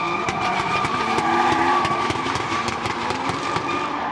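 A loud, revving Toyota Chaser drift car engine (1JZ) roars continuously, with sharp pops and rattles on top, close by and unbroken, like a car drifting past at a drift meeting at Queensland Raceway.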